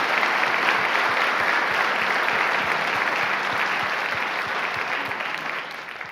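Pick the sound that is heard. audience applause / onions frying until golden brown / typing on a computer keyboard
audience applause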